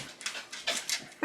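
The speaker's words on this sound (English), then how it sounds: "that's my dog who just came running because he thinks I'm actually talking to a live" A dog comes running in and gives soft whimpers and quick breathy pants in short bursts, close by and fairly quiet, with no talk over it.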